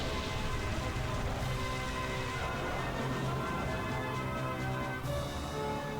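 Rain move effect from the Pokemon Colosseum video game, a continuous dense hiss of rainfall with steady patter at even loudness throughout, without talking.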